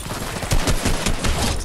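Rapid AK rifle gunfire in the Fortnite battle royale game, a dense burst of repeated shots heard fairly loud with no talking over it.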